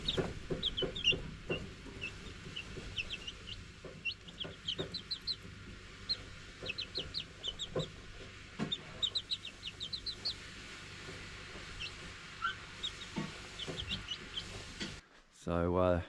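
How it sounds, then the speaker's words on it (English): A couple of backyard chickens cluck and chirp in short repeated calls, moderately near, over a steady outdoor background with small rustles and a brief knock at the end. "So there's a couple of chickens down here that Cody and Grace have."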